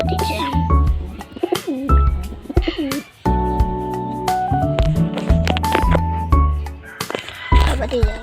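Pigeons coo in a loft housing hundreds of birds, with soft repeated calls mixed into a busy backdrop of voices talking, rustling and shuffling steps.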